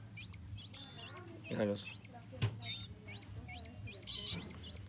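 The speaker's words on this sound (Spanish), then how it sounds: "Son las aves del rancho, que dice tierra donde dicen sensontles, son sensontles." Birds on a ranch, mockingbirds and chachalacas, call in three loud, high bursts about a second and a half apart, with softer repeated chirps between them and someone speaking briefly underneath.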